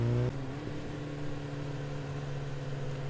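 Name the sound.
motorcycle engine while riding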